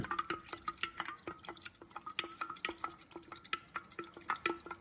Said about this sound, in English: I'm going to stir it again.